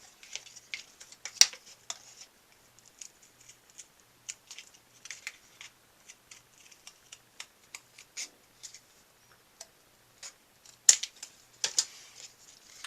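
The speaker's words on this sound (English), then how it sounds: "You want to actually trim these off." Small, crisp snips and clicks come from trimming parts off a scratch-built 1/72 Jagdpanther model, close and quiet, scattered irregularly with no talking.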